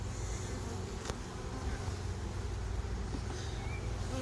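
A steady low buzzing hum of many Buckfast honey bees at a hive fills the air continuously, a dense insect drone with no voices.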